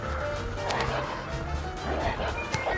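Dogs barking in the Call of Duty Mobile game, repeated woofs and yips amid gunfire and a dense battle mix, with a player talking over the noise.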